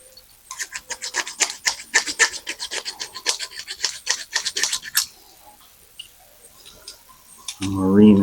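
Hand reamer scraping inside an AN oil cooler line fitting, a fast series of close rasping strokes for about five seconds, then a pause and a brief low thump or voice at the end.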